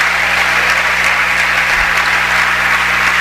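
A church congregation at a Portuguese-language worship service applauds, with loud, steady, continuous clapping that fills the whole stretch without a break.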